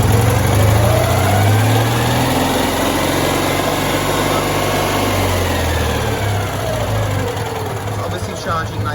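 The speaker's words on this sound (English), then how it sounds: "This is a steady idle, and with good voltage, if I rev it slightly," A Citroen 2CV engine with a single-barrel carburetor idles steadily up close with a buzzy, even putter, rising slightly in pitch as it is revved a little, then easing back.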